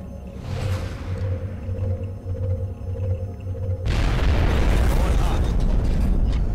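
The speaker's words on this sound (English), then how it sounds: "I will fire a rocket right here" A rocket fired in XCOM Enemy Unknown bursts into a loud, sustained explosive roar about four seconds in, breaking over a steady low game hum and continuing as a dense rumble to the end.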